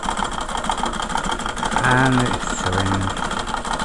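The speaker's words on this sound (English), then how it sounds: "Just get the treadle going and see how it runs on this bit of test plastic." Treadle sewing machine stitching a test piece of plastic, two short mechanical whirring runs close by with a pause between them, over a steady background hum while someone speaks briefly.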